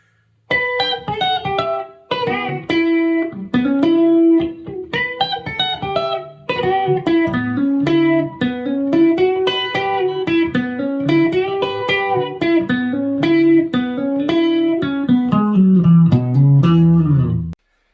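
An electric guitar plays a song, a steady, clean melodic tune, single notes picked one after another, close and clear with no voices.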